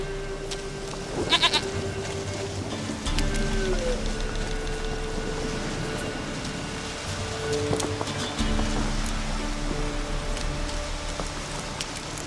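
A goat bleats a few times in The Witcher 3: Wild Hunt over steady rain-like ambience, with the bleats rising briefly above the constant background.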